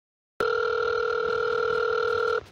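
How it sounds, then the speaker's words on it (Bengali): A telephone call is being placed, and a single steady electronic ring tone sounds clearly and alone for about two seconds, then cuts off. "দেখি খুশি কে ফোন কর"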